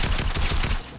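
Rapid automatic fire from a drum gun in a shooter video game, a dense, loud burst of repeated shots running almost the whole second before cutting off.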